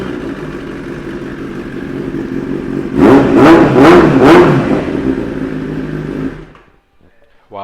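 Kawasaki ZX10R Anniversary 2015 sports bike fitted with an Akrapovic exhaust, a steady close idle rumble broken by four quick loud throttle revs in a row, then the engine cuts off into near silence.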